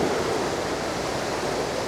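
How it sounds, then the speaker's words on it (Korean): Steady broadband wash of surf breaking on a Thai island beach, continuous and fairly loud with no distinct individual wave crashes, no voices. "파도 소리가 이 리듬이 너무 좋아"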